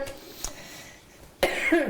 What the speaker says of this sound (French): Petite toux légère, OK.